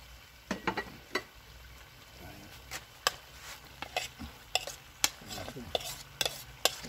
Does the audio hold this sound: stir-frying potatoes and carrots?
yes